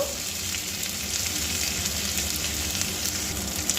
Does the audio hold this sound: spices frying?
yes